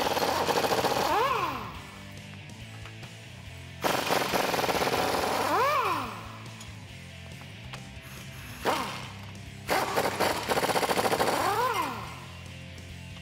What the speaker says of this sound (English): come in here with a 19 millimeter socket and remove the four nuts on our U-bolts